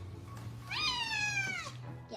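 A cat gives one long, clear meow with a rising then falling pitch, close and fairly loud over a steady low hum, with no talking.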